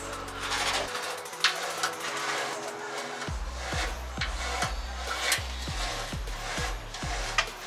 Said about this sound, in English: using a chain cutter and a bit of strength, basically keep going, and then eventually it'll cut through that